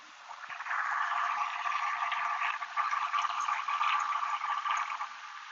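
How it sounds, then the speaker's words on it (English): Washing water drains steadily away with a continuous rushing, gurgling flow, moderately close and alone, swelling after the first second and holding until the end. "I'm just draining away all this water"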